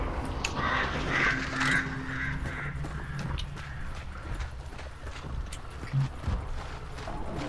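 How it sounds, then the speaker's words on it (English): Crows caw a few times in a row in the video game Hunt: Showdown, fairly distant, against an outdoor ambient bed with scattered footstep-like thuds and no talk. "I'm not worried about crows or nothing else."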